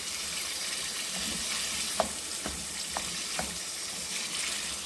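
Boiled turnip chunks sauté in a pan with a soft, continuous sizzle, broken by a few light taps and stirring clicks, fairly faint and with no talking.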